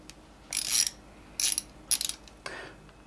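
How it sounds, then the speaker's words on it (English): Ratchet with a screwdriver socket bit working flathead screws loose on a Sachs 505 clutch cover, four short bursts of rapid metallic clicking separated by brief pauses, close and clear. "we're gonna undo our 5 flathead screws on the front of the clutch cover"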